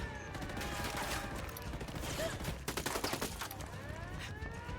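Gunfire in the Ghost Recon Wildlands shooter game, a busy firefight with scattered shots and a sharper volley midway, set against steady background battle noise and whizzing effects.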